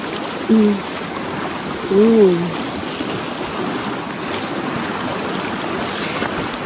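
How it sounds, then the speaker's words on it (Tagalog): Strong river current rushing after a typhoon near a waterfall in Bulacan, a steady broadband wash of water with wind buffeting, as a voice speaks briefly twice over it. "Ang lakas ng current ng ilog."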